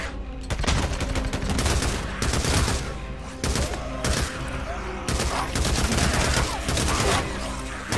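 Rapid bursts of gunfire in the video game Days Gone, dense overlapping shots and automatic fire running almost continuously with brief pauses, loud and close.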